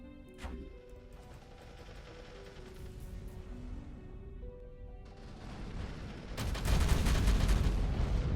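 Heavy weapons fire from a siege frigate in the space strategy game Sins of a Solar Empire 2, with booming blasts and crashing impacts that swell into a loud, dense barrage over a sustained musical, mechanical background.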